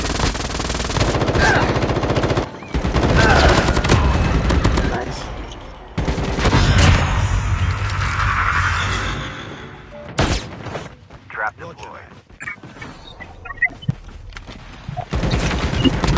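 AK rifle gunfire in Call of Duty Mobile Battle Royale, loud sustained automatic bursts with booming impacts, then sparser scattered shots and a closing burst; a voice briefly speaks over the action.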